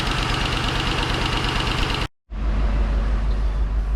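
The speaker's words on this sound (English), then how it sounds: "The mist is gone, but the engine's still running a little rough." A Ford 4.6 three-valve V8 idles roughly with a misfire, a steady close mechanical knock and uneven pulsing throughout, cut by a brief silent gap before resuming with heavier low rumble.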